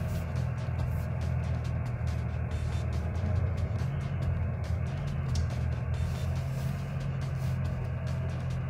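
Steady traffic noise from a driver training simulator: a continuous engine drone and road hum with passing vehicle sounds, even and unbroken with no talking.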